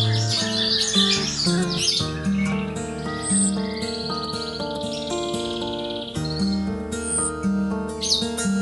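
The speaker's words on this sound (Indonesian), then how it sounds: "saya sudah rindu sekali dengan suara cuitan yang misterius" An orange-headed thrush chirps and whistles in varied, melodious phrases, loud and close, with repeated high notes over a busy background of other tones.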